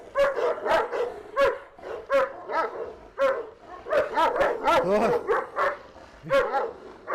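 A Turkish Boz shepherd dog barks repeatedly and loudly at close range, a rapid series of sharp, rhythmic barks with brief whines between them.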